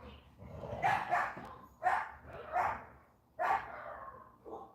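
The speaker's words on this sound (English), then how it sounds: "Do you guys hear the dog fight that's going on?" Dogs barking and snarling in a fight outdoors, several rough bursts of barking spaced across the clip at moderate distance, with a faint voice in the background.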